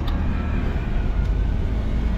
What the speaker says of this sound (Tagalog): Yan na po yung truck na maghahakot po ng panambak doon sa Anyana.